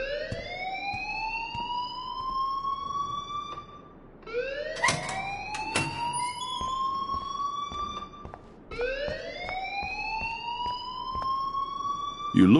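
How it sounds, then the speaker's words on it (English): A rising-and-falling electronic alarm wails over and over in the Life is Strange video game, three long sweeping cycles with brief clattering noises between them. "please turn off that alarm since that's your job."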